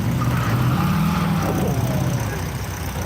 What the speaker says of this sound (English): Now you think you got some of these trucks straight out of the museum.